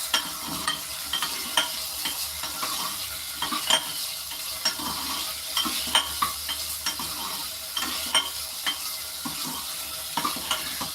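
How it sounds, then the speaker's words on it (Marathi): Potatoes being stirred with salt in oil in a frying pan: a continuous frying sizzle broken by frequent, rhythmic spatula scrapes and knocks against the pan, close up, with no speech. "मीठ घातल्यानंतर लगेच याला व्यवस्थित मिक्स करून घेऊया"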